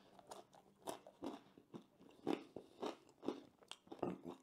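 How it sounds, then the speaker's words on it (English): Bites into the crisp crust of a frozen hot sauce pizza, a string of close, sharp crunches followed by chewing and crackling at an irregular pace, with no talking. "A good crunch to it"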